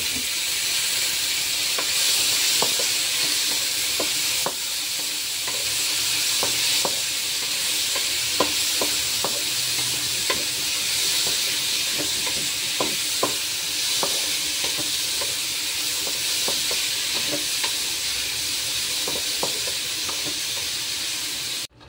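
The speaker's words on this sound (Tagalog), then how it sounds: "Gisahin na natin ang mga lamas. So, lagay ko na ang tomato." Aromatics and tomato sautéing in a pan with a loud, steady hissing sizzle and steam, punctuated by scattered light clicks and taps of a utensil, constant and close for the full stretch without talking.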